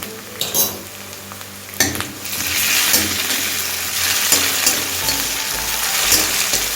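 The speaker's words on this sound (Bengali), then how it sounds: "পেঁয়াজ সফট হয়ে গেলেই এর মধ্যে আমি কাঁচা লঙ্কা আর থেতো করে রাখা রসুনটা অ্যাড করে দিচ্ছি" Onion softened in oil sizzles as green chili and crushed garlic are added, the frying swelling into a loud, close crackle after a couple of sharp pan knocks, with occasional stirring clatter and no talking.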